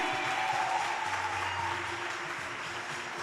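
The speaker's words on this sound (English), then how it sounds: "Give a loud round of applause to Tammy." Audience at a youth weekend event applauding for a guest named Tammy, a continuous moderate round of clapping that eases slightly as it goes.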